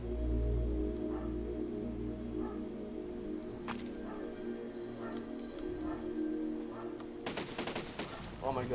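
Plane cannons fire in the building game Besiege, faint sharp cracks scattered over a steady engine drone, with a denser rattling burst of shots near the end.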